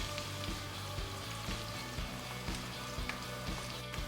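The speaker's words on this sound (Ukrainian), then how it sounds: "Цибулька трохи підсмажується" Onions fry in a cauldron for plov, a steady close sizzle with soft periodic ticks and pops roughly every half second, no talking.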